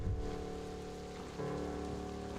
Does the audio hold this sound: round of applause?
no